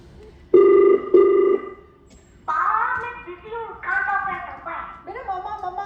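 An incoming call rings on a phone as two loud, steady electronic tones in quick succession, followed by a voice coming through the line.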